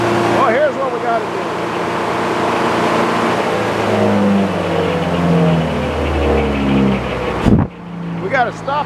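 An old, worn Frick sawmill runs loud and close with a steady mechanical roar and whine that shifts in pitch, then a sharp jolt near the end briefly interrupts the drone before it carries on.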